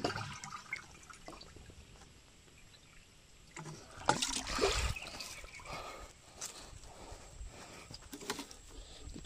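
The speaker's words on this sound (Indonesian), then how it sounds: "sekarang proses penyiraman untuk yang kedua kali ataupun yang terakhir" Water pours and splashes over seedlings in uneven bursts, a louder gush near the middle, with trickling and dribbling between pours and no speech.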